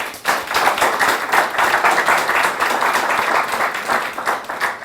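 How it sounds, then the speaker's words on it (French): An audience in Burkina Faso applauds its young entrepreneurs with sustained, dense clapping, a loud crowd patter that swells and wavers for the full length without voices over it. "Ils vont s'applaudir très fort pour cela."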